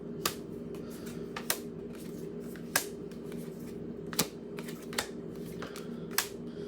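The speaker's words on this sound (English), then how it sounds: "There's one card flipped out when I was shuffling" Tarot cards being shuffled, heard as a series of sharp riffling snaps spaced about a second apart over a steady low background hum, close and fairly quiet, with no one talking.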